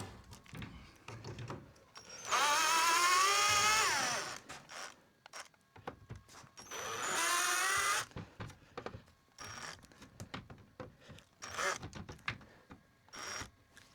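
Cordless screwdriver with a flat tip backing screws out of old wood during a century-old porch and bay window rebuild, two steady whirring runs of about two seconds each, close up, amid scattered clicks and handling noises.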